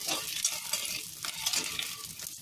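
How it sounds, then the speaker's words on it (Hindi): Eggs fry in a pan of oil over a medium flame with a continuous soft sizzle and crackle, broken by light stirring scrapes. "हमें अंडे को अच्छे से फ्राई करना है।"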